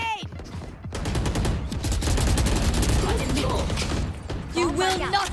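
Dense bursts of rapid gunfire and explosions in the Doom mod Project Brutality, loud and nearly continuous over several seconds, with a voice talking over the shooting.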